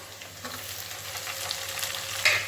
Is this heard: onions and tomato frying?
yes